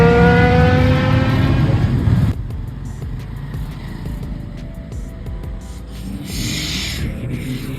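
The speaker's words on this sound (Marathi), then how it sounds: "कसलं गेला निंजा." A Kawasaki Ninja 1300 motorcycle accelerating loudly past on a highway, a strong rising engine whine that drops sharply as it goes by, leaving steady road and wind rumble.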